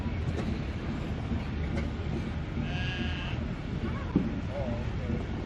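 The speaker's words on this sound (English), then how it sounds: "I think that sheep disagrees" A sheep at an outdoor pioneer days show bleats a couple of times over steady crowd and machinery noise, with people talking nearby.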